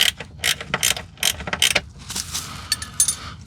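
Ratchet wrench clicking in short bursts while unbolting an 11 mm bolt from a component cover, close and fairly loud, with repeated rapid ratcheting strokes separated by brief pauses and no talking.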